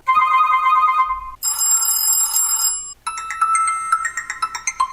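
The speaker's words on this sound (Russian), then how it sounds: "Если же запустить другие мелодии встроенные, то вот такой вот звук" Built-in ringtone melodies playing from the speaker of a Teclast P80H Android tablet: loud, bright electronic tunes, three different ones in quick succession, each a chiming melodic phrase.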